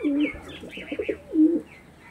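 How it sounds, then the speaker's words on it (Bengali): Kaldama breed pigeons coo in several close, low rounded calls, a long coo at the start and another near the end, with softer throaty murmurs between. "এটা কালদমা পায়রা আছে"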